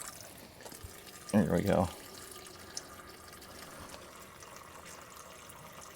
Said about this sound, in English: Open that valve right there, and then we'll start draining.